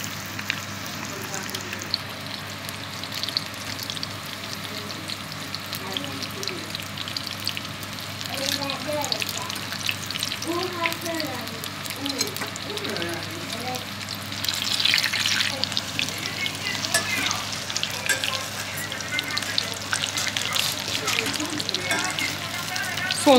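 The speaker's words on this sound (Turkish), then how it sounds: "Karnabaharın saplarını da kızartıyorum" Cauliflower stems fry in a pan on the stove, giving off a steady crackling sizzle that grows louder partway through, while someone talks over it.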